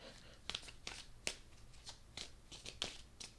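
A Runik Tarot card deck being shuffled, giving a series of crisp riffling and slapping bursts at irregular intervals, fairly quiet and close, with faint background noise.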